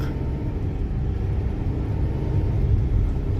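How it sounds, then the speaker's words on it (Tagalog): A big oncoming truck rumbles past nearby on a road, its deep engine roar steady and loud throughout. "May salubong tayong"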